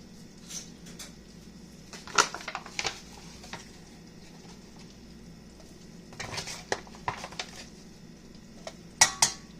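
A metal utensil stirs and scrapes through flour and melted butter in a pan, making soft irregular clinks and scrapes over a faint low hum, with a few sharper taps now and then.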